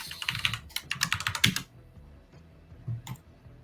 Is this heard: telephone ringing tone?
no